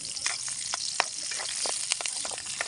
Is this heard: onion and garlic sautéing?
yes